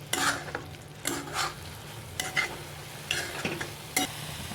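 Raw banana sabzi is stirred and fried in a pan, with a constant close sizzle broken by about five scraping spoon strokes at a slow, roughly even pace.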